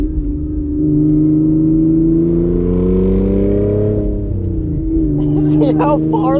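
An Audi A4 with its exhaust cut off drones loudly as it accelerates, engine pitch climbing steadily through a long gear before a shift near the end, with some voice activity over the rumble.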